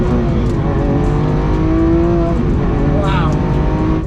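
A Lamborghini's powerful engine roars steadily as the car accelerates, its pitch climbing, with voices talking over the continuous drone.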